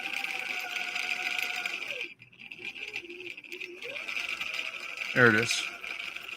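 A sewing machine runs a 3-point zigzag stitch, a fast, buzzing mechanical rattle that pauses briefly and then resumes, with a person speaking over it.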